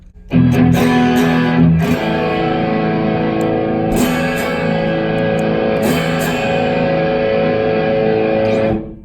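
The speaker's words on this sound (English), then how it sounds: "So yeah, crazy pedal, gives you that mid bump and lots of gain on top" Electric guitar through a JHS Kilt pedal with the gain switch flipped, giving heavily distorted, mid-boosted sustained chords with several strummed accents over about nine seconds, loud and steady before cutting off.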